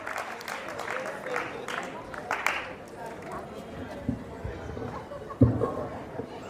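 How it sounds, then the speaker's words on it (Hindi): An audience at a kavi sammelan poetry gathering in Jaipur breaks into applause, a loose, moderately loud patter of clapping with crowd murmur beneath, a few sharper claps near the end. "एक बार जोरदार तालियां।"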